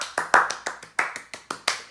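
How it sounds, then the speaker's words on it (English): Bare hands clap on a podcast set: about ten sharp, close claps at a steady, fairly quick rhythm, alone, with no talk over them. "round of applause."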